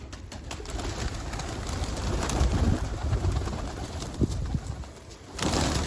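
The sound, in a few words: pigeons cooing in grandfather's coop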